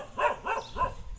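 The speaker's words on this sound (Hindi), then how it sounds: "शेर और टॉमी दोनों इस दूसरे कुत्ते पर भाग रह" Dogs bark during a chase after another dog, three quick, close barks in an even rhythm with no talking.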